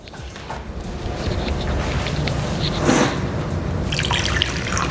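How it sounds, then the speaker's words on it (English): Hot water pours steadily into a container, half a cup, a continuous splashing rush that swells slightly before easing, with a faint clink near the end. "I'm adding my hot water."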